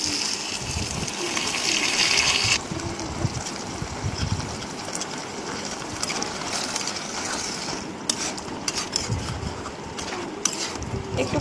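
Water poured into a hot pan of braised chicken, a steady gushing splash with a burst of sizzle at the start, followed by continued bubbling and a few utensil clinks, close and loud.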